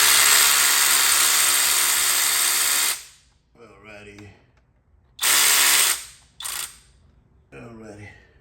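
A ratchet works a screw out of a VW Passat vacuum pump, with long loud steady whirring bursts, brief gaps, and someone speaking between bursts.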